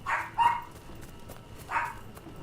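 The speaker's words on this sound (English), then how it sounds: "Oh no, I wonder why she's barking." A dog in the Dragon Age: The Veilguard video game gives three short, mid-pitched barks, two close together and one after a pause, fairly near over faint background game ambience.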